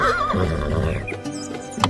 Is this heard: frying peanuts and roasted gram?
no